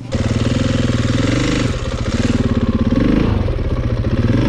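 KTM 450 EXC enduro motorcycle engine running close by, a loud steady idle with a rough, rapid pulsing thump that rises briefly in pitch as if blipped, continuous throughout with no voices.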